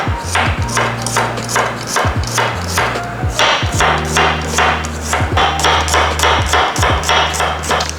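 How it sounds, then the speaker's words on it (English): A knife slices red onion shallots thinly on a cutting board, giving steady, rapid, close-up chopping taps in an even rhythm throughout, over a low humming background tone, with no talking. "first we will start with slicing our red onion thinly"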